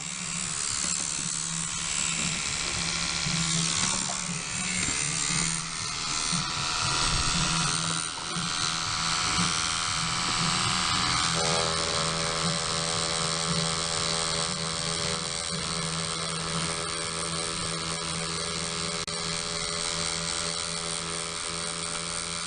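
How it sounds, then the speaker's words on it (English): Tattoo machine running at high voltage, a continuous close electric buzz with a steady mechanical whine that shifts to a smoother, higher-pitched drone partway through. "too much voltage, which is just going to speed this machine up and just tear up your skin here"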